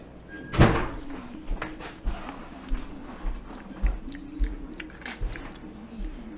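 Close-up chewing and biting of lemon cake, a series of moist, rhythmic mouth sounds repeating roughly every half second after one sharper bump near the start.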